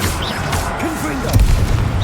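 A blasting-spell explosion in a wizard video game: a heavy boom near the middle amid dense battle effects and ambient game sound, short and loud.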